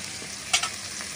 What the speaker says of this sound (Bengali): পেঁয়াজটাকে ভালো করে একটু লাল লাল করে ভেজে নেব